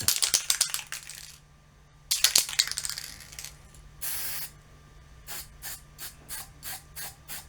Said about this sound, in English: Spray painting the swing arms finishes off this episode